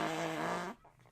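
A voice imitates a loud, drawn-out fart, a single buzzing blast lasting well over half a second and then cutting off abruptly, close and alone.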